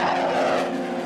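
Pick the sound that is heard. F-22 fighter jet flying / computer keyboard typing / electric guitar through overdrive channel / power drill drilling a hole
F-22 fighter jet flying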